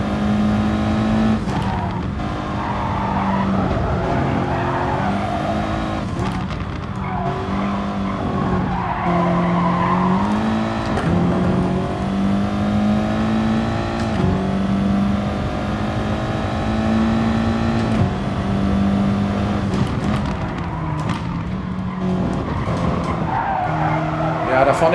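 Audi TT Cup race cars in the GT Sport game lap the Nürburgring 24h circuit, engines droning loudly and continuously with shifting pitch and tire squeal throughout, while someone talks over the racing.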